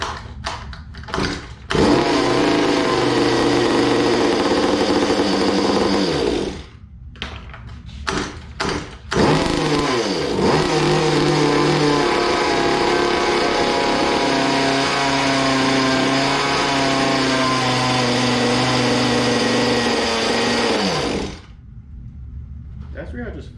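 Two-stroke engine on a Goped scooter with a worn carburetor, running in loud sustained bursts that cut out, with short pull-cord starts between them and people talking over it.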